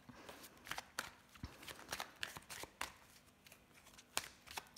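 Tarot cards are shuffled by hand in a rapid series of soft riffling flicks and crisp snaps spread across the whole stretch, close and fairly quiet, with no talking over them.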